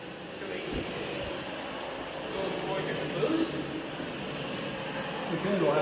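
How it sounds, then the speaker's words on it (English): Mini trains at a South Dakota railroad museum run with a steady, even rumble and faint rattling throughout, alongside a low murmur of people in the room. "Mini trains."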